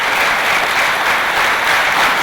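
Sustained, dense applause and acclamation from a crowd at a civil society and political meeting in Burkina Faso, loud and even from start to finish with no voices on top.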